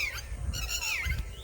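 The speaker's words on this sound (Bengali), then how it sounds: "কত সুন্দর পাখি ডাকছে দেখতে" Birds call and squawk in a rural Bengal village, a few bright chirping notes sounding at moderate distance over a low rumble of background noise.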